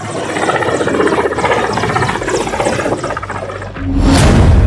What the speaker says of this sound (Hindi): रईसी के काफिले में 1, 2, 3 हेलीकॉप्टर थे